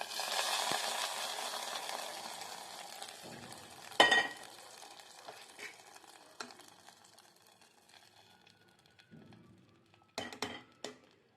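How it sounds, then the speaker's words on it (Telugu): Cashews frying in a pan for a jaggery payasam offering, a steady close sizzle with a sharp clatter near four seconds, fading to faint crackle, then a few utensil clinks near the end. "ఇదిగోండి జీడిపప్పులు వేగిపోయినాయి"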